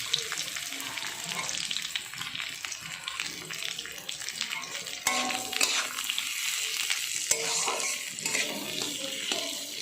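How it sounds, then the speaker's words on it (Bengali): Small-chopped onions frying in a pan for ghugni made with goat fat, a steady close sizzle with scraping stir strokes throughout and no talking. "দুটো পেঁয়াজ দিয়ে দিয়েছি ছোটো ছোটো করে কেটে রেখেছিলাম পেঁয়াজ দুটো দিয়ে ভালো করে নেড়ে দিয়েছি"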